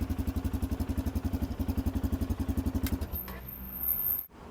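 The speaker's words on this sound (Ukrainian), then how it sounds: "Я думаю, ті, хто хотів почути звук двигуна, будуть задоволені." Kovi ADT250 motorcycle engine idling close up, a steady rapid pulsing thump for about three seconds before it cuts out, leaving faint background noise and a high whine.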